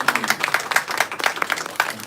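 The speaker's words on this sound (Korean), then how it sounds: "큰 박수로 다시 한번 이필영 후보님 감사드립니다" Clapping from an audience at a Korean district mayoral candidates' debate on disability policy: a short burst of steady, moderately loud applause from a room of people, heard without talk over it.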